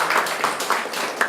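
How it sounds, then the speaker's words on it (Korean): A church congregation at a Sunday service claps together in a brief burst of applause, with rhythmic, slightly uneven hand claps filling the room. "우리 박수로 축하하겠습니다."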